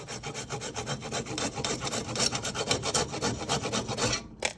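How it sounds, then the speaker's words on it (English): A whole nutmeg is rasped against a grater in a home kitchen while making Southern mac and three cheese, giving a steady run of quick, close scraping strokes with no talking. "I want to give a little grate of my nutmeg"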